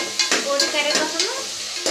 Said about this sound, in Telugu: ఉల్లిపాయలు వేసిన, ఉల్లిపాయలు మగ్గినాక పోటీ వేయాలి.